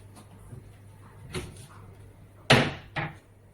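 A hinged wardrobe door in a modern closet being opened, with a soft creak or rub followed by two quick wooden knocks or latch clunks, close and fairly quiet over a low background hum.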